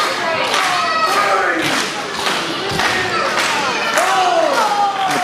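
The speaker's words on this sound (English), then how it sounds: "The crowd clapping, chanting, trying to get Jeffrey John back to his feet." A wrestling crowd claps and chants in rhythmic bursts with thuds mixed in, loud and close, with a commentator talking over it.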